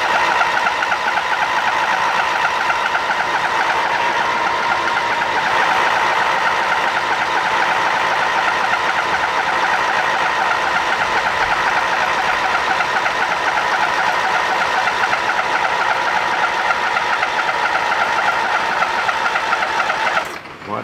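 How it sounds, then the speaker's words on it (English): A lawn mower engine runs steadily after starting, a loud, close, continuous buzzing drone with an even rhythmic chug, holding constant for about twenty seconds before cutting off abruptly at the end. "Try without choke. Mower started."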